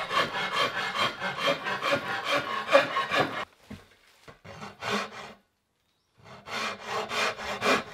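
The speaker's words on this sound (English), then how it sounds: "the rasp comes in very handy to get your wood right down to the line" A wood rasp files a Pacific yew bow stave in rapid, rhythmic rough strokes, close and loud, pausing for a few seconds before resuming the coarse back-and-forth rasping.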